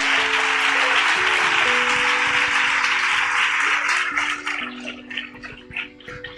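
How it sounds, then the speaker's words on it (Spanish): A church congregation applauds during a sermon, a loud, dense wash of clapping with music playing underneath that thins out and fades over the last couple of seconds. "Dele un aplauso al Señor."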